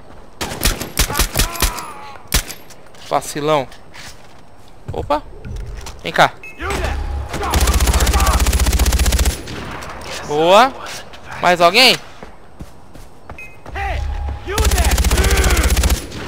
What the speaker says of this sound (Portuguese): Estão atirando em mim aqui, porra.